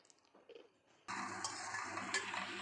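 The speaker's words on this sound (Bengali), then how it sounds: "রসুনটাকে দিয়ে খুব ভালোভাবে নাড়াচাড়া করে নেবেন।" Stirring crushed garlic into onions fried light red in a pan for a pangasius fish curry, a sudden steady sizzle starting partway through with faint utensil scrapes, close and continuous.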